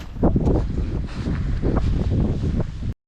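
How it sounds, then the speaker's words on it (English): Wind gusts across an open hillside walking path, a steady broadband rush with rising and falling surges buffeting the microphone, loud and close throughout with no talking. "Wind is picking up, as you would expect"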